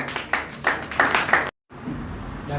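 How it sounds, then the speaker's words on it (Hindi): A handful of loud, separate claps in an uneven rhythm from a direct-selling training audience, then a sudden cut to quiet background hiss. "आपके अगेन जोरदार तालियों के साथ"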